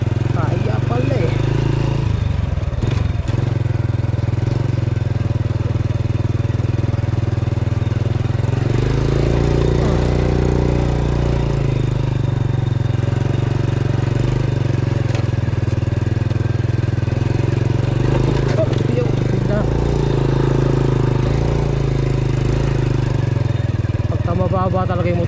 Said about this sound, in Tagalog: Mababa talaga yung motor, sumasayad.